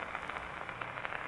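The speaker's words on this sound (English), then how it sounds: "Rain." Rain falls outside a window in an old radio drama, a soft, steady crackling hiss with faint patters, heard alone for a moment.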